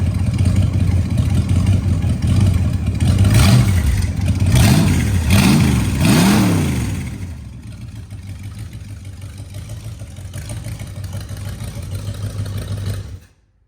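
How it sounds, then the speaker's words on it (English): Old 345 engine running close by, revving in several rising and falling swells before settling into a steady, lower idle with a rough, clattering tone, then cutting off at the end. "this thing will idle down just perfect."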